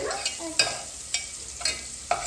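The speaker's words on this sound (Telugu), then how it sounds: "ఇప్పుడు ఫ్రై చేయాలి కదా, ఆనియన్స్ వేసాము." Onions frying in a pan as a sambar is cooked at home, a steady soft sizzle broken by several short stirring scrapes roughly every half second, close and fairly quiet with no talking.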